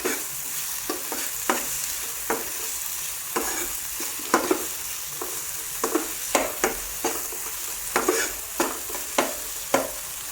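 Koi fish in a pan with salt, stirred with a spatula that scrapes in repeated rhythmic strokes, close and clear over a low sizzle of frying, without speech.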